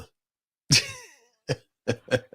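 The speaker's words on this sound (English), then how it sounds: "Hang on, cough." A man coughs once, sharply and close to the mic, then gives a few shorter rough coughs or throat clears after a pause.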